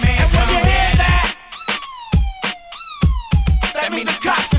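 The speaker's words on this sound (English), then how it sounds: "that's the sound of the police." A hip-hop track built around a police siren, with falling, wailing siren tones laid over punchy drum hits and beats, loud and upfront, with no talking.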